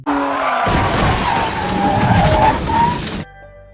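A Ferrari race car skids off the track after its engine fails, a loud continuous tire-and-engine roar with a skidding scrape that holds steady for about three seconds before cutting off abruptly.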